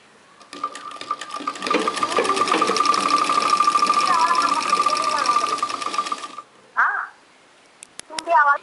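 Sewing machine stitching a pleat in a beginner tailoring class, a fast steady mechanical whir running for several seconds close by, then stopping, followed by a couple of short bursts of sound.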